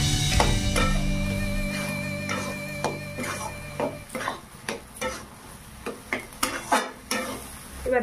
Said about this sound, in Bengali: একটু সামান্য জল দিয়ে পোস্ত বাটা দিয়ে দিলাম। একটু নেড়ে চেড়ে নিলাম।